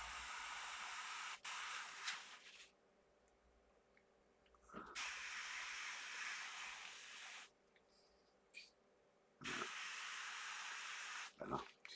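Bursts of airbrush or spray-can hiss while painting a 1/24 Aoshima Knight Rider model kit, several separate sprays of one to three seconds each with short pauses between, close and steady, with faint talk in the gaps.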